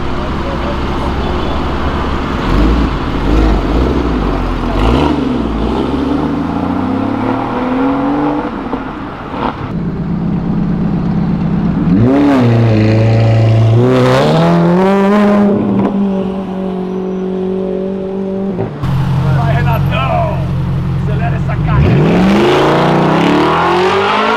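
A turbocharged Mazda Miata with a bodykit revs its engine up and down in repeated loud, close bursts, the pitch sweeping up and falling back several times, with people talking over it.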